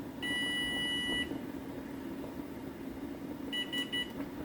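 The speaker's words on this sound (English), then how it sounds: "That's the timer for the oven" A kitchen oven timer sounds a steady electronic beep, then stops and sounds again as short repeated beeps near the end, over a constant low background hum.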